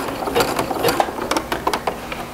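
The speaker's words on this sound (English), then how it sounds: "center the two butted edges on my sewing machine foot, and then with that wide zigzag," A sewing machine runs wide zigzag stitching along butted fabric edges in short bursts, its needle clattering in a quick, uneven mechanical rhythm, close and moderately loud.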